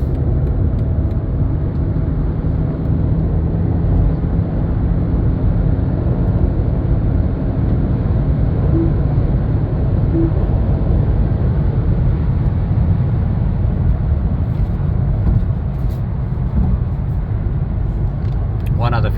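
A BMW 5 Series gains speed on the road, its steady low engine and road rumble droning inside the cabin throughout while a person talks over it.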